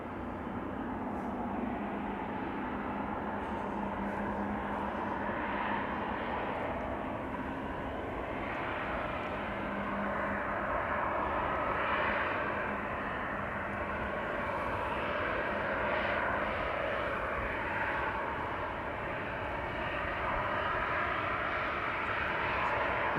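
Air Europa airliner departing Amsterdam Schiphol Airport, its engines a steady distant rumble with slight swells in intensity, continuous and unaccompanied by voices.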